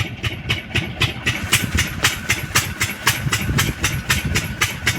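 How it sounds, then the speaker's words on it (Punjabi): A Swaraj 855 farm tractor engine idles steadily nearby in a paddy field during rice transplanting, a continuous low rumble with a rapid even knocking pulse running throughout, no talk over it. "ਆ ਆਪਣਾ ਟਰੈਕਟਰ"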